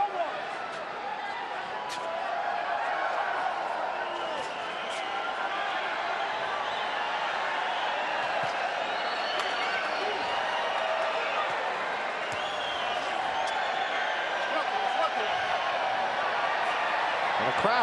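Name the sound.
boxing arena crowd cheering at the MGM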